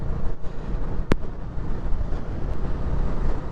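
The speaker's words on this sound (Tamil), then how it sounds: "காத்து தள்ளுது மக்களே." Strong wind roars steadily at an open hilltop viewpoint near Kollegal, Karnataka, buffeting the microphone with loud, rumbling gusts and a brief sharp knock about a second in. No speech is heard.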